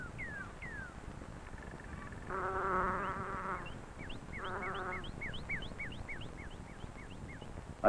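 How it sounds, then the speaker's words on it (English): Insects buzz around spring flowers, a low droning hum rising and falling in short bursts over a quiet outdoor background, while bird chirps repeat faintly above. "Replenishing their stores of nectar and pollen, the bees unknowingly assist in the pollination of flowers."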